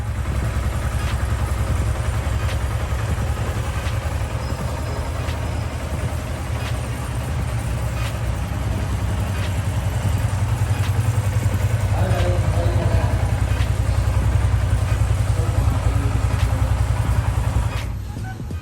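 A Yamaha Sniper 155 motorcycle engine idles steadily with a low, constant rumble, close by, as a voice speaks over it.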